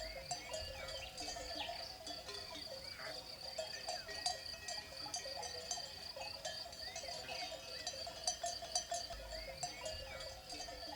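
A grazing flock of sheep in open countryside, with faint bleats and soft clanking bells scattered over a steady outdoor background, all heard from a distance.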